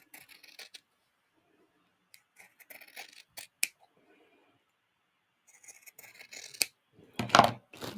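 Scissors trim the edges of a craft piece for a journal, scattered sparse snips close by with quiet pauses between, ending in a louder brief rustle.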